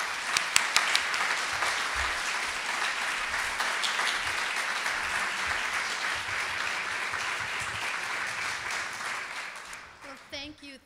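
Sustained audience applause at a UCLA global health equity event welcoming neuroscientist Dr. Kelsey Martin, a dense wash of many hands clapping steadily for about ten seconds before tapering off into the start of a voice.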